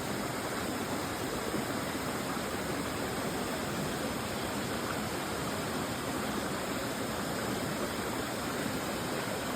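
Khlong Nam Lai waterfall in Khlong Lan, Kamphaeng Phet, Thailand, roars in a steady, dense rush of water, loud and unbroken throughout.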